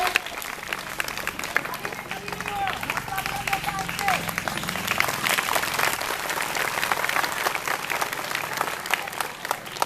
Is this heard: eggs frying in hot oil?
no